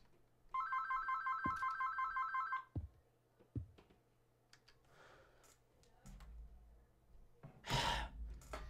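A loud electronic phone ringtone chirps in a fast repeating pattern for about two seconds and then stops, followed by sighs, a gasp and light clicking, with a faint steady hum underneath.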